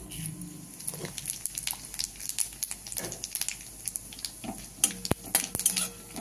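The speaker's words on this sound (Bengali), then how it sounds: "দিয়ে দিলাম তেজপাতা ফোড়ন, দিয়ে দিচ্ছি শুকনো লঙ্কা 5টা, দেবো একটু গোটা জিরা" Bay leaf, five dried red chillies and whole cumin crackle and sizzle in hot oil for khichuri, with scattered pops and a few metal utensil clinks over steady frying hiss; no one speaks.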